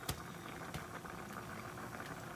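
Mung bean stew with lemongrass and coconut milk simmers in a pot, a soft, steady bubbling and light patter with a couple of faint clicks, heard alone at low volume.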